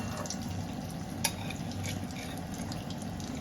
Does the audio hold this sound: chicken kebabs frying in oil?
yes